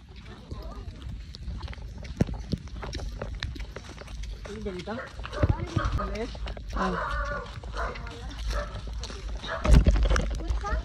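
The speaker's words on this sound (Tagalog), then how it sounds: "Ayan, may aso pa dito." A dog barks several times nearby while people talk continuously, outdoors during a vacation trip in Surigao, with occasional louder barks breaking through the conversation.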